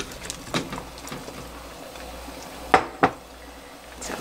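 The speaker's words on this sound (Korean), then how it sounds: "무를 한번 넣어 보겠습니다" Radish pieces drop into a pot of simmering braised beef: two sharp, close thuds and clatters in quick succession over a low background hiss, with a few fainter knocks earlier.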